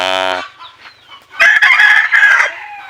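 Chickens, including bantams, cluck and a rooster crows nearby, loud and clear, with several sharp calls in quick succession.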